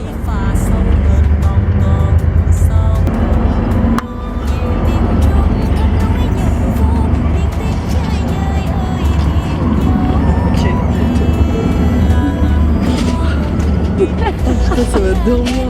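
From inside a long-distance bus near Da Lat, a constant low engine and road drone fills the cabin, with voices and other cabin sounds over it.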